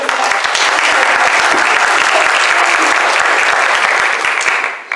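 Steady applause fills a church service, a dense crowd clapping continuously and loudly from start to finish before tapering slightly at the end.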